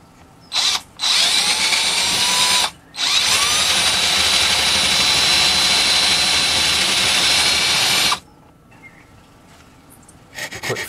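Power drill boring a hole in the end of a homemade LED digital clock case for a power socket, a loud close high-pitched whine with two brief starts and then one long continuous run before stopping.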